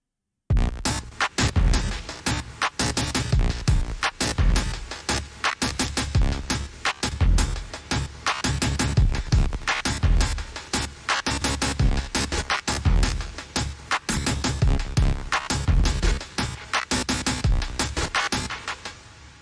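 A punchy drum beat from the original demo of a song, with sharp hits pulsing steadily, sparse and somewhat raw, playing alone at moderate volume for the whole stretch.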